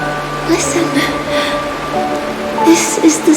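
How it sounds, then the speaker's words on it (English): Steady video game rain patters softly in the background, a continuous hiss with faint droplets, while a calm voice speaks over it. "This is the sound of rain."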